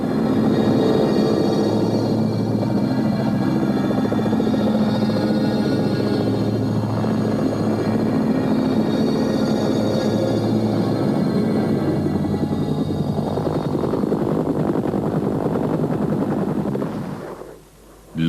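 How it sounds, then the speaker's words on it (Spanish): Helicopters from the Korean War era heard as a continuous loud, dense mechanical drone with steady low rotor rumble, sustained throughout before fading out near the end. "Los helicópteros, un invento reciente, dejaron su huella en Corea como transportes de asalto y de evacuación de heridos."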